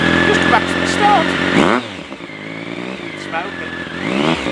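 A motorcycle engine fitted with a Demon SP Engineering exhaust runs loud and close, with a rising rev near the start, then a steady idle and a smaller rev again. Steady tonal engine harmonics run throughout, with no talk.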